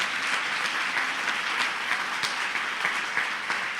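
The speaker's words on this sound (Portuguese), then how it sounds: "Você pode aplaudir Jesus?" Church congregation applauding during a worship service, a dense, steady wash of clapping from many hands, loud and continuous with no voices standing out.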